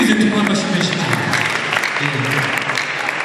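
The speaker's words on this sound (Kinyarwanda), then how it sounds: "twibwirize tumuha amashyi menshi cyane" Guests at a wedding reception clap warmly in sustained applause, with an amplified voice speaking over the clapping throughout.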